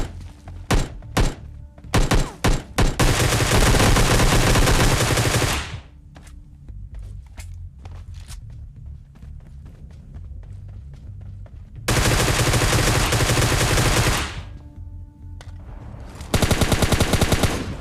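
Automatic gunfire in the video game PUBG Lite, with several quick shots giving way to long, loud sustained bursts of rapid fire, a quieter stretch of scattered shots, then more heavy bursts.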